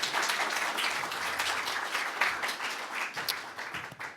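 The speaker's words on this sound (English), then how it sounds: "Please join me for a round of applause for the work done by Carlos." Steady applause from an awards ceremony audience honouring Carlos, a continuous dense patter of many hands clapping at moderate loudness that tapers slightly toward the end.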